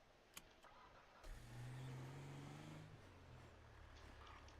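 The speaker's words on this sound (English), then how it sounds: "I'm going to have to go park this truck." A truck engine in a video game turning over and settling into a steady mid-pitched rumble, starting after a couple of faint clicks and holding at moderate volume, with no talk.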